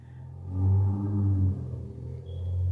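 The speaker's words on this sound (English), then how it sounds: "that vehicle just drove away" A car engine rumbling as the vehicle pulls away, a low steady drone that swells and then holds, fairly close with no voices.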